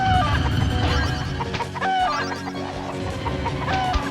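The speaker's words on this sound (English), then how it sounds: "when did he ever sound like a chicken?" Goddard, the robot dog in the video game Nickelodeon Party Blast, gives a loud chicken-like clucking and crowing over busy game music, with repeated squawks across the few seconds.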